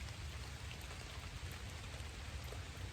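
Steady rain falls near a bedding area in the woods, a dense, even patter of drops on surfaces continuing without pause throughout, with no voices.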